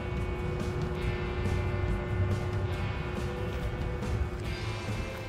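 A short-circuited cement mixer motor runs steadily at a construction site, a faint continuous electrical hum with a mechanical drone that holds constant throughout.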